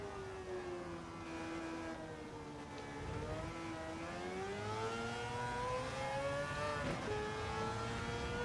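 A Mazda RX7 with a 787B engine swap racing in Gran Turismo 7, its high rotary whine climbing and dipping steadily through the gears, loud and continuous.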